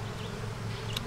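Honey bees buzzing steadily on a hive frame near capped queen cells, a close continuous drone with no talk.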